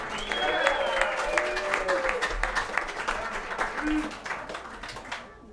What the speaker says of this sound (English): Big round of applause for our winners.